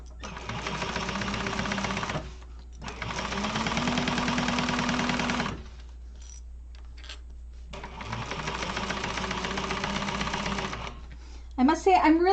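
A sewing machine stitches in three long runs of rapid, buzzing chatter separated by brief pauses during a sewing class, with a short burst of voices at the end.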